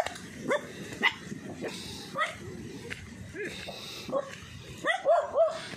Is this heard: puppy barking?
yes